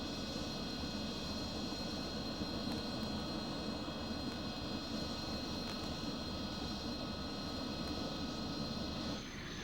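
Soviet MiG-29 fighter jet producing a steady, continuous jet engine roar with a high whine, holding an even loudness throughout with no voices.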